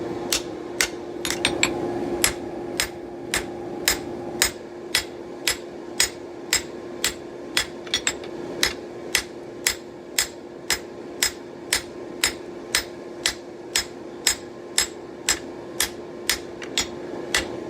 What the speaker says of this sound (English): just forging in the bevel, working in sections of about 4 inches at a time, working my way back